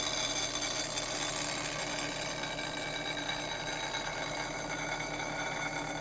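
Bench grinder sharpening the wing of a bowl gouge, a continuous loud whine with steady grinding hiss throughout, no pauses or talk.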